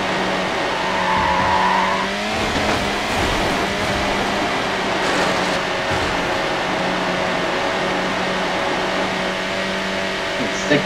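Race car in Need For Speed Hot Pursuit 2 drifting through a National Forest course, a steady engine drone under a high tire squeal that starts early and fades, with faint talk over it.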